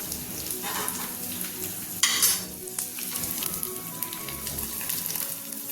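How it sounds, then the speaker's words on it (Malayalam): Ghee-fried chopped coconut tempering poured into a pot of dal curry sets off a loud, steady sizzle and crackle, with a sharp hissing burst as the hot fat hits the liquid, then a continuous frying crackle. "നേരത്തെ നമ്മൾ വറുത്ത് വെച്ചിരിക്കുന്ന തേങ്ങ കൊത്തും കൂടെ ചേർത്തിട്ട് നമുക്ക് കറിയിലേക്ക് ഒഴിച്ചു കൊടുക്കാം"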